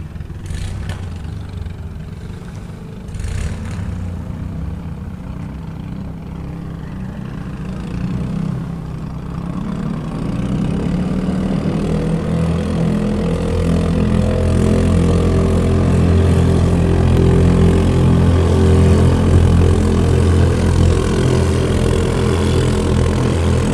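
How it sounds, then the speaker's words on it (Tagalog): Motorboats racing on a calm sea: a low, steady engine drone that grows louder and fuller partway through and then holds as a sustained rumble, with no talking. "karera talaga yung mga bangka nila"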